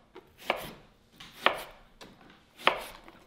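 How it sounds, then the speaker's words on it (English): A knife chops through a lemon slice for a Vitamix green juice in three crisp, separate cuts against a board. Each cut is near and sharp, and the room is otherwise quiet. "So we'll do a nice slice of lemon."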